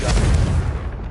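A Confringo blasting curse detonates in the Hogwarts Legacy video game, one loud close boom that rumbles heavily and then trails off over about a second.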